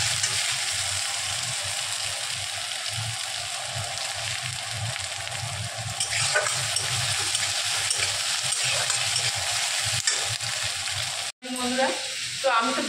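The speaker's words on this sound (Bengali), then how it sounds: "এই দই দিয়ে কাতলা মাছ রান্না করছি আজকে" Katla fish cooks with yogurt in a pan, giving a continuous close sizzle and crackle of frying that holds steady throughout, with a brief dropout near the end.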